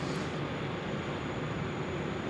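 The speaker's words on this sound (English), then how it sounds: "The Emirates A380 here taxiing on Alpha." An Emirates A380 taxis at Sydney Airport at night, heard as a faint, steady, distant engine rumble and whine with no voices.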